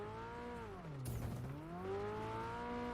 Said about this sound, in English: Such a nice sounding car.